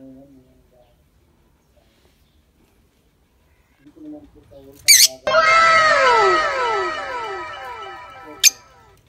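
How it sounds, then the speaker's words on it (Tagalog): A pet bird calls in a home setting, starting with faint voices and soft sounds, then a sudden loud burst of rapid, repeated, sweeping squawks and chirps close by that gradually tapers off, with a sharp click-like accent near the end. "Ang makulit ding ibon."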